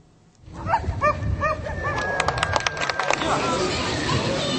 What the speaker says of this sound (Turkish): onlar eğitimli Alman çoban köpekleri